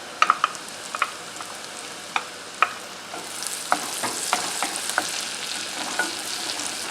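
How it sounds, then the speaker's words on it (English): Chopped garlic fries in butter in a pan with a steady broadband sizzle, punctuated by clicks and light scraping from stirring; close and moderately loud, with no talking. "we'll go ahead and add in our chopped garlic"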